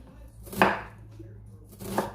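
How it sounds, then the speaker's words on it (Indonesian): Onion being chopped with a knife on a board, two distinct close thuds a little over a second apart against a quiet background. "Kita cincang bawang bombay ya."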